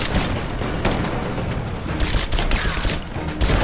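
Gunfire in Rise of the Tomb Raider: a dense, rapid fusillade of shots and booms, loud and close, continuing without pause for several seconds.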